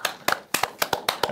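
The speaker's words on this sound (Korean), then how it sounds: "와우, 교수님께서 박수." Several sharp hand claps in a quick, uneven burst, close by, with no talking over them.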